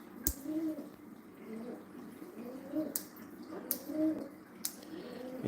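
A pet bird coos softly and repeatedly in rhythmic low phrases, close by, with a few sharp clicks and knocks between the coos and no talking.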